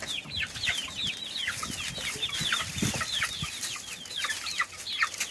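Chickens cluck steadily in a backyard chicken yard, many overlapping calls close by, with short repeated clucks and occasional louder squawks forming a continuous busy flock chatter with no talking.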